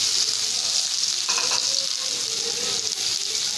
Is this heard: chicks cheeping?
no